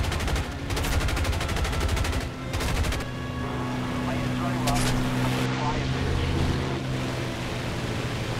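Rapid bursts of gunfire in an online shooter game as one player tries to shoot down another, steady clatter of shots over a droning engine-like hum, with people talking throughout.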